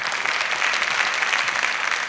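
An audience applauds a song-and-dance ensemble at a televised concert, a dense, even wash of many hands clapping throughout, fairly loud and steady with no voices above it.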